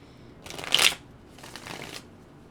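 Tarot cards shuffled in two quick riffling bursts, the first louder and crisper, the second softer and longer, close up with no talking.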